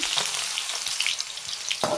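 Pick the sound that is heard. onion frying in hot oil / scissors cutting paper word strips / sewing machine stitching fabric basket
onion frying in hot oil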